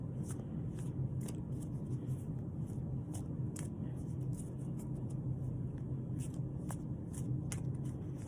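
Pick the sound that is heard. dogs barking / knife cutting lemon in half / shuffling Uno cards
shuffling Uno cards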